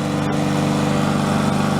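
A repaired Columbia push lawn mower engine running steadily, a loud, close, continuous buzzing drone.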